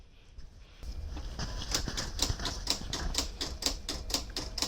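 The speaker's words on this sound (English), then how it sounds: "So this is my auto blade adjusting." A Silhouette CAMEO 3 cutting machine adjusts its auto blade for a custom pillow cover, giving a fast, even train of close mechanical ticks and clacks after a quiet start, like a rattling typewriter.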